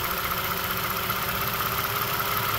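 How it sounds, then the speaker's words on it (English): A 2014 Toyota Sienna engine idles with a vacuum leak causing a system-too-lean condition on bank 1 and bank 2, giving a steady, close, even hum with a faint hiss and no talking. "I don't know if you can hear the engine sound."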